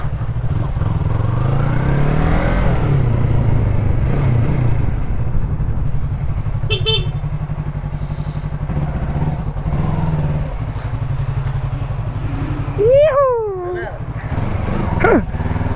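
A Yamaha MT-03/R3 with a GRS full exhaust idles and rumbles in a steady low drone throughout, while people talk nearby and a dog yelps and howls.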